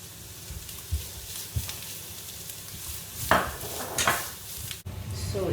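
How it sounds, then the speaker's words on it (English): Chopped garlic and shallots fry in a little oil in a pan, a steady sizzle under scraping stirs and clinks of a utensil against the pan, close with no talk. "We'll put in the chopped garlic and shallots, and then we lightly brown it."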